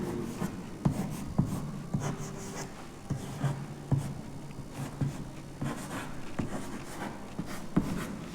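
Pen or pencil writing numbers by hand on paper, a steady run of close scratchy strokes with small taps between digits, continuing alone without talk.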